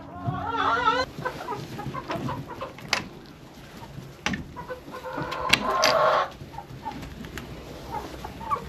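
Several chickens on a farm cluck and coo nearby in scattered bursts on a cold morning, with a louder flurry of squawking midway and occasional thumps and rustling around them.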